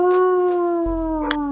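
Dogs howl outdoors in a yard, one long sustained wavering howl close and loud, with a brief yip near the end.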